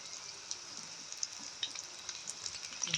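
Chicken singara deep-frying in hot oil, a steady bright sizzle with fine crackling pops, close and fairly quiet, with no voices.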